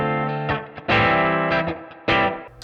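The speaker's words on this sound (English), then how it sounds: "It's a tape delay with some filtering and distortion and such" A distorted, filtered musical tone runs through a tape delay effect, with harmonic-rich notes starting and repeating in short echoing bursts that swell and fade, close and upfront with no voices.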